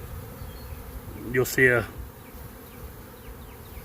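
A swarm of honey bees clustered on a branch drones as a constant low buzz in the background while someone briefly speaks over it.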